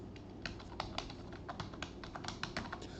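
Fast, light keystrokes on a computer keyboard while a password is entered, an even run of close clicks at a low level with no talking.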